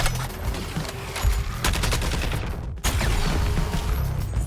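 Heavy automatic gunfire in Suicide Squad: Kill the Justice League comes as rapid, dense bursts. It is loud and close, with a brief gap between volleys and no talk over it.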